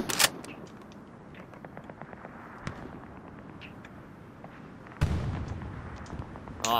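Gunfire in a first-person shooter match, a dense run of quick shot transients over a steady background rumble, followed by a louder, fuller burst near the end.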